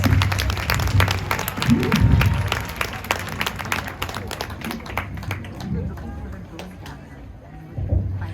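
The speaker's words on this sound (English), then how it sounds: "Please give them a huge round of applause." A crowd applauds students at a Republic Day celebration, producing a moderate, uneven patter of claps that thins toward the end, with people talking underneath throughout.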